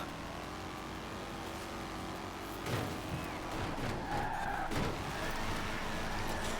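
A car engine in Forza Horizon 4 held at full throttle on a straight, a steady, fairly quiet drone with a couple of brief louder bursts midway and no talk over it.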